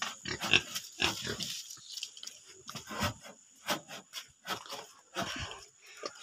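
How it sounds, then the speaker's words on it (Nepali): A pig grunts and snorts close by in repeated short bursts, an irregular run of rough, nasal sounds with brief pauses between them. "अर्को सुँगुर यता छ।"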